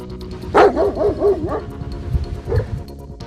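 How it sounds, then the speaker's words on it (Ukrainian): A dog in a residential yard gives a sharp bark and then a run of quick yelping barks, fairly close. After a short pause comes one more bark with some rustling noise. "У дворі злий собака."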